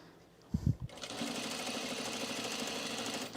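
A sewing machine stitching men's cargo shorts starts after a short voiced sound and runs in a steady, fast mechanical whir with even needle clatter, close and continuous.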